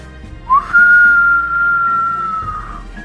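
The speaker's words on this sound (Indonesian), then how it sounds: "Saat itu terdengar suara siulan nyaring melengking menyakitkan telinga." A single loud, shrill, piercing whistle rises quickly and holds a steady high tone for about two seconds before cutting off, standing alone against a faint low background, used as an audio drama effect.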